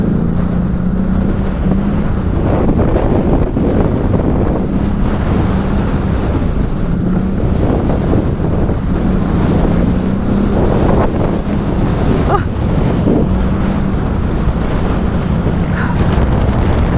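Heavy wind buffets the microphone during a night ride on a CFMOTO ATV through a forest trail, a constant roaring rush with a low engine drone beneath it and no clear talking.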